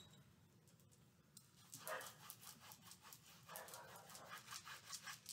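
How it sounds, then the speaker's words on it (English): A dog barks somewhere in the distance in a few short, faint bursts over a quiet room background. "Okay, dog over there, we hear you"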